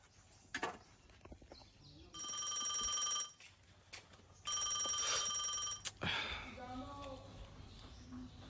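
A telephone rings in two long, steady electronic bursts of about a second each, fairly loud against a quiet room in a comedy skit, with brief voices between and after the rings.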